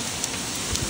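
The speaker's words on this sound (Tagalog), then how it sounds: "Umuulan ng yelo." Hail falling in Riyadh, Saudi Arabia, a dense, loud, continuous patter and clatter of ice striking surfaces, with no talk, over a short burst.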